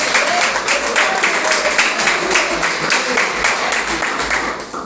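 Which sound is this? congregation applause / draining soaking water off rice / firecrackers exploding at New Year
congregation applause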